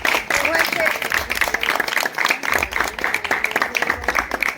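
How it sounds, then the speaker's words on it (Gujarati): An audience claps at a Mother's Day celebration in Kodinar. The dense applause is fairly loud and rises and falls in bursts, with a voice speaking over it. "જોરદાર તાળીઓના ગળગાટથી આપણે"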